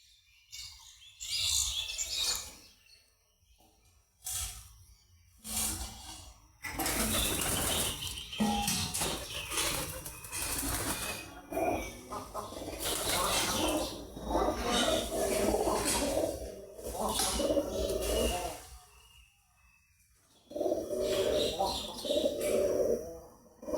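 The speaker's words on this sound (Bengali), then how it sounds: "এই হচ্ছে ছোট্ট কবুতরের খামার" Local pigeons at a small backyard pigeon farm coo softly and burst into repeated wing flapping, in loud close bursts separated by quieter gaps, with a person talking over parts of it.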